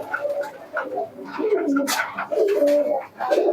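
Several pigeons coo in a pigeon shop, their throaty rolling calls overlapping in close, fairly loud bursts with short pauses between phrases.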